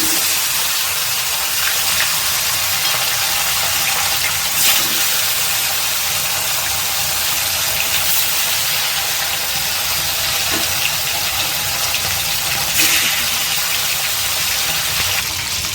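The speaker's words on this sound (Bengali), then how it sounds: "মাছগুলো ভাজছি।" Pona fish frying in hot mustard oil in a kadai, a steady loud hiss and sizzle that runs continuously without a break.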